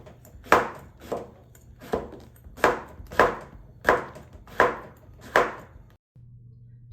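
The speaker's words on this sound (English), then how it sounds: "You can also cut your squash in half first and then slice it into the half moon shape." Knife slicing squash into half-moon pieces on a cutting board, about eight sharp, evenly spaced chops, close and clear with no talk.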